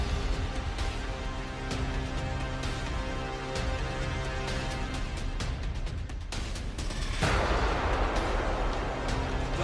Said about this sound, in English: Just a little run with an explosion behind us.